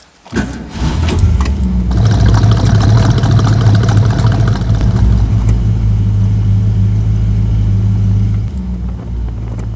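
A Ford Mustang engine starts with a quick crank, then settles into a loud, steady, low idle rumble nearby, dropping slightly in level near the end.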